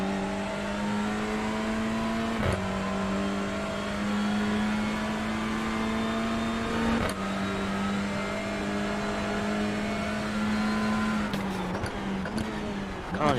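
A race car engine in the iRacing sim drones steadily at high revs for over ten seconds, with a few abrupt gear-shift breaks in the tone.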